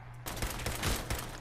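Rapid gunfire in Fallout 4, a brief, loud burst of repeated shots in quick succession, close and harsh, with no talking.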